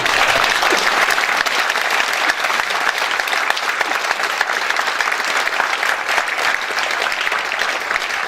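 A hall audience at a lecture in a district community centre auditorium gives sustained, loud, dense applause that holds steady for the whole span without letting up.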